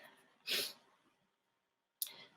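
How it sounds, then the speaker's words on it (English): A sudden, forceful sneeze close by, then a moment of silence before another sharp, breathy burst cuts in. "Oh, I'm going to sneeze."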